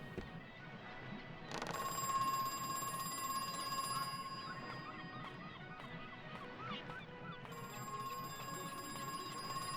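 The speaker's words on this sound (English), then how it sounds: "I certainly hope that phone doesn't stop ringing by the time we come back here with the key." In the video game Crow Country, a telephone rings with a faint, bright electronic trill that repeats in bursts over a low, steady background ambience.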